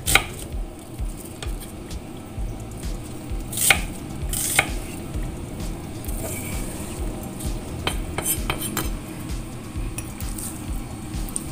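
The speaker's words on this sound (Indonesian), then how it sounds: "Ini bawang bombaynya diiris" A knife slices an onion on a cutting board in a home kitchen, soft irregular taps and crisp cuts close by over a low background hum.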